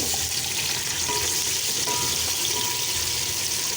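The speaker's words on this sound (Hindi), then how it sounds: "यहाँ पर मैंने एक बड़ा टमाटर लिया था, जिसे मैंने यूँ गोल स्लाइसेस में कट कर लिया है। अब ऑयल में इसे मैं ऐड करने लगी हूँ।" Round slices of a large tomato fry in hot oil, giving a steady, close, bright sizzle that holds evenly throughout with no talking.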